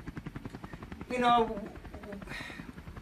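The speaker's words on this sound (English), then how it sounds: "like right now you hear the helicopter" Rapid, steady thumping of helicopter rotor blades fills the background while a person speaks briefly over it.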